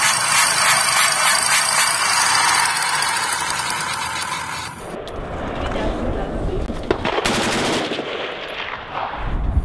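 A toy M16 rifle fires in a loud, dense mechanical burst that fills the first half, then cuts to a rougher, quieter rattling that carries on under a voice.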